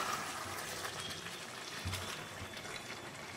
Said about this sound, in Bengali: এবার একটু জল ঢেলে দেবো।